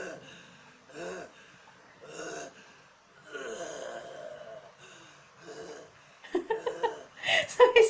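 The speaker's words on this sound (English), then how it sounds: "So he's actually breathing heavily." An anime character breathes heavily in a One Piece episode, with a series of loud, panting gasps and breaths spaced a second or so apart, building into quicker, more intense bursts toward the end.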